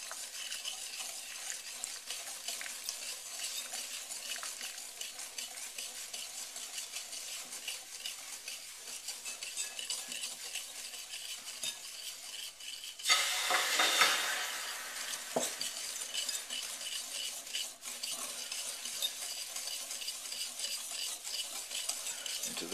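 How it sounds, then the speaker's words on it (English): Sugar and butter stirred in a pan as they caramelize for a traditional French apple tart, a steady scraping and sizzling that runs close and even, swelling briefly louder midway, with no talking. "most of the flavoring for the tart comes from the caramelized butter. So add the sugar and butter."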